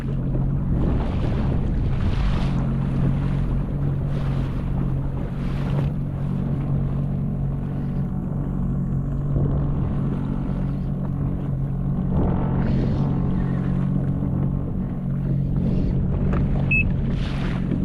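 A Sea-Doo personal watercraft idles offshore in troll mode at a steady, low controlled speed, its engine a constant close drone mixed with wind buffeting the microphone and water slapping around the hull.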